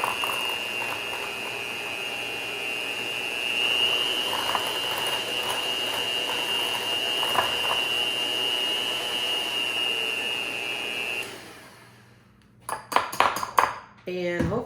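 Electric hand mixer whipping deviled egg yolks, a steady high whine running for about twelve seconds under a woman's speech, then stopping, followed by clicking and clattering.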